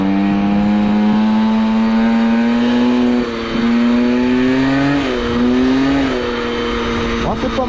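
Scooter engine held near 100 degrees running at a steady high rev with a strong, sustained harmonic whine, rising slightly in short surges, loud and close throughout.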